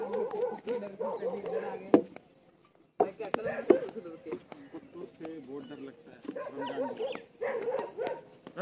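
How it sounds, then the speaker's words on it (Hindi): A dog gives a few sharp barks, isolated against the steady conversation of several people outdoors. "रमजान सर, आपको इतना क्यों डरते हो कुत्तों से?"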